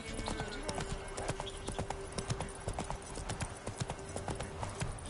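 Roach, a horse in The Witcher 3, trots with steady clip-clop hoofbeats, close and clear, in a brisk rhythm, with faint game ambience and a voice in the background.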